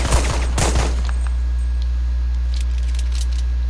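Several quick gunshots in a video game, a short burst of sharp cracks in the first second followed by fainter clicks and small bursts over a steady low hum, with no talking.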